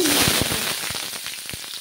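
Chopped onions hitting hot oil with dried red chillies and black cumin for a fish egg curry, a bright crackling sizzle with scattered sharp pops, close and loud, settling over the short stretch.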